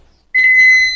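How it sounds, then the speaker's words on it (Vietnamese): A Japanese electric rice cooker, a 2019 model, sounds its buzzer: one steady, bright electronic tone with clear harmonics starts a third of a second in and holds, close and loud, with no talking. "Chuông còi kêu tốt."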